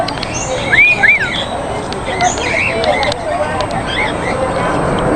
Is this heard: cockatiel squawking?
yes